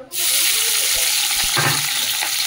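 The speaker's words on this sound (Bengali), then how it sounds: "চলো তেলটা গরম হবে, পেঁয়াজটা দিয়ে দিই" Chopped onion dropped into hot oil in a home kitchen, a sudden loud sizzle that bursts in and keeps crackling steadily close by with no talk.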